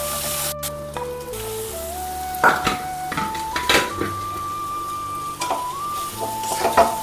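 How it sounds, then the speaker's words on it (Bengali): Ginger paste fries in oil with a soft sizzle and occasional sharp spattering pops, under steady background music. "একটু ভাজা করে নিই আদাটা, কারণ এগুলো প্রচণ্ড ফুটে ছিটকাচ্ছে আদাটা"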